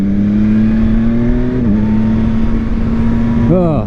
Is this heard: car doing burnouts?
yes